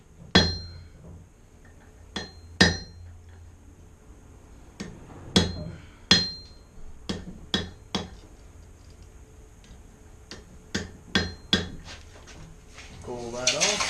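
Hammer blows on hot steel over a hardy cutoff tool while forging a simple J hook, about fifteen sharp metallic strikes at an uneven rhythm, each ringing out briefly, close and loud with no talk.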